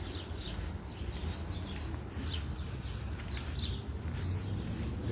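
Sparrows chirp in repeated short bursts outdoors in Poland, moderately near over a steady background hum.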